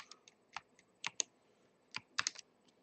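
Quiet keystrokes on a computer keyboard while code is written, coming in short irregular bursts of taps with pauses between them and no talking.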